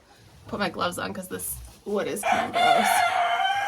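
A rooster crows loudly and close by in the latter half, its drawn-out call ringing over a person talking beforehand.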